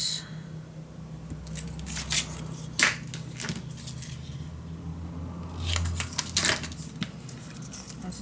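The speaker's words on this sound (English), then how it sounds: "Okay, let's cut this." Scissors cutting paper for a scrapbook mini album, a series of crisp snips and crunchy slicing strokes in two bursts, close and fairly quiet against a low background hum.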